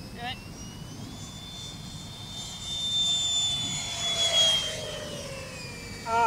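A Freewing Lippisch 64mm electric ducted-fan RC jet plane flies at about half throttle, its steady whooshing whine swelling louder as it passes near, with faint voices in the background.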